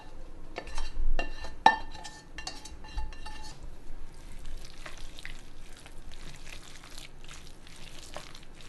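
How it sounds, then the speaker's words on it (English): Quiche filling seasoned with Bragg's liquid aminos being mixed in a bowl, opening with a run of bright clinks of a utensil against the bowl, then settling into softer, continuous scraping and swishing strokes. "I'm just going to mix that in good."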